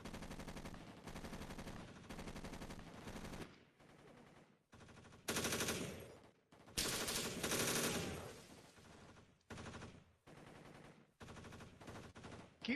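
Sustained automatic gunfire from a video game squad assault, long loud bursts of rapid shots separated by short pauses, several weapons firing in overlapping strings close by.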